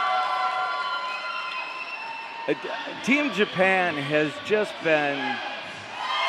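A large roller derby crowd at a tournament track cheers as a steady, roaring wash of noise under a close commentator's voice.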